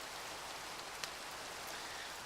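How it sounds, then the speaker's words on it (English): Steady hiss of rain falling in the Verdantia game world, an even wash of drops with a couple of brief soft taps and a sharper click at the very end, no voices. "Rain."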